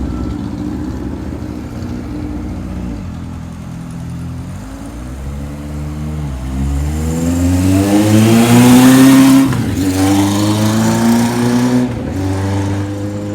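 A 1978 Kawasaki KZ1000 LTD motorcycle engine runs near and loud, rising in pitch through repeated sweeps as it accelerates up through several gears, with no talking.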